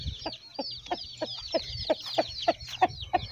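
A chicken on a farmyard clucks in a quick, regular series of about ten short, nasal calls over roughly three seconds, fairly close but not loud.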